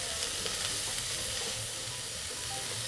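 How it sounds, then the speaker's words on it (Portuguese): Chopped onion and garlic fry in a pan with a steady, dense sizzle while being stirred, close and continuous for a few seconds with no talking. "Agora eu vou acrescentar uma cebola picada. Vou mexer novamente e vou esperar essa cebola dar uma boa murchada."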